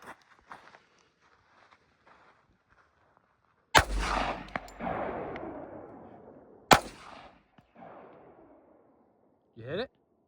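Two sharp, loud gunshots from a .45 Colt pistol fired at ice outdoors, each with a long rolling echo, spaced about three seconds apart amid quiet surroundings with faint movement noises.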